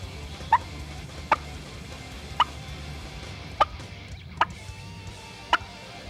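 Sharp, single clucks from a turkey call imitating a turkey hen, six short pops spaced about a second apart over a quiet background.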